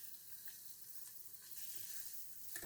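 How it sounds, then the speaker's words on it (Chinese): Sweet potato being stir-fried slowly over medium heat in a nonstick pan makes a very faint, steady sizzle with light scraping stirs, close and quiet, with no voices. "把红薯慢慢的炒干"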